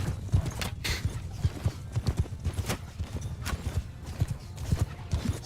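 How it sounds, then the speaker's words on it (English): A large mass of horses gallops in the Mount and Blade Bannerlord battle, a dense, continuous drumming of hooves with loud irregular thuds and occasional whinnies, close and alone. "I know I'm running scared from this huge rampaging 200 horses"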